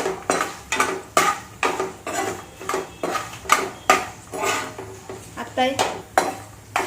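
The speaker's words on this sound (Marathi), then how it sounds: "आता यात हळद घालू. जरा ढवळून घेऊ." Roasted ingredients for thick poha chivda are stirred with turmeric in a pan, producing about a dozen rhythmic metal scrapes and knocks, each roughly half a second apart, loud and close.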